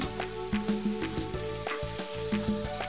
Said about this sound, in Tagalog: hayaan lang po natin siyang maprito ng mabuti